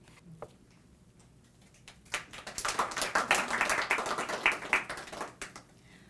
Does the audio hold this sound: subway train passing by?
no